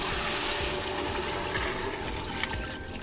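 Water pouring and splashing steadily into a cooking pot of spiced, fried goat trotters, a continuous close liquid rush with no speech.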